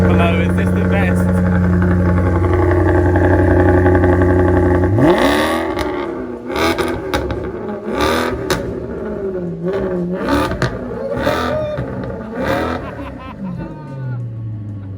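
A Maserati MC sports car's V8 engine holds a loud steady drone, then revs in a string of sharp rising blips with crackles between them, with voices talking over the later revving.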